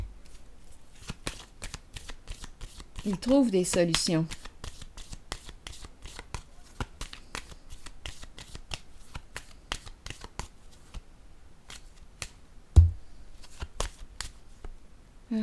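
Tarot cards are shuffled by hand in a steady run of rapid, crisp riffling flicks, close and continuous, with a brief spoken line in French partway through and a sharp knock near the end.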